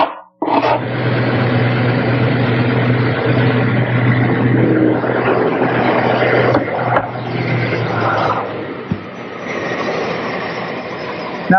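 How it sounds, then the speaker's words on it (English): A wide belt sander flattens a glued-up wooden table top panel for a French side table, a loud steady machine roar with a low hum that runs almost without a break, close by. "this is where a wide belt sander comes in real handy. Makes the panel perfectly flat and even."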